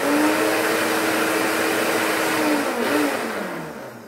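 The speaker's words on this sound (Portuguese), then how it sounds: "vou bater no liquidificador para misturar tudo isso" A kitchen blender whirs loud and steady, blending sugar and cinnamon into a fine powder, with the motor pitch slowly dropping and easing off near the end.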